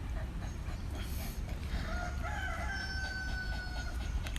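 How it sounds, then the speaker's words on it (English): A rooster crows once in a long, drawn-out call at moderate distance, heard over a steady low background rumble. "Hear the rooster? We have one rooster."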